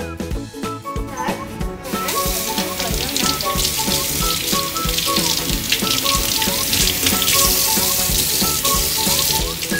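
Vegetables and greens washed under a running tap give a steady, close, dense splashing hiss that starts after a short quieter moment and continues evenly to the end.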